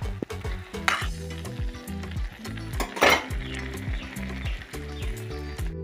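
Fish and bottle gourd curry sizzles and fries in a wok while a spoon stirs in repeated scraping strokes, with metal clinks against the pan, close and moderately quiet.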